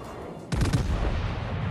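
Heavy 356 mm battleship guns on the USS Florida fire in World of Warships, a single deep booming salvo that rolls on and rumbles out with no voices.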